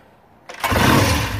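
A 1964 Triumph 5TA Speedtwin 500cc motorcycle engine cranks and catches after a quiet moment, bursting into a loud, close, steady running rumble.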